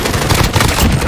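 Rapid automatic gunfire in a Call of Duty match, a dense continuous burst of shots filling the whole moment, loud and close, with game noise and excited shouting mixed in.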